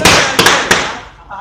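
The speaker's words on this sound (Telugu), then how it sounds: "అక్కడ బాంబు పోతుంది." Firecracker bombs burst in a rapid cluster of sharp, loud, close bangs, about four cracks within a second, each followed by a short fading crackle and a brief quieter tail.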